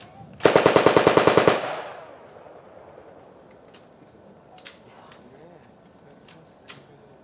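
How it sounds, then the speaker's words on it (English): An M60 machine gun fires one rapid, loud burst of about a dozen shots at a Vietnam-era reenactment demonstration, then leaves a fading outdoor tail with scattered faint distant pops. "So that is the M60 machine gun"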